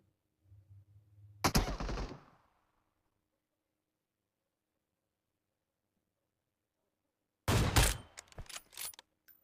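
Gunfire from the video game BGMI comes in two loud, close bursts of rapid shots, the second burst tapering into scattered single shots. The stretch between the bursts is nearly silent.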